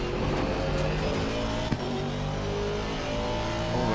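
Aston Martin race car in a racing video game at Zandvoort, a loud continuous engine drone held at high revs with a brief bump of curb contact partway through, close and steady.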